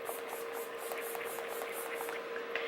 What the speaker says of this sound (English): I'm going to start out using my vitamin B prep spray.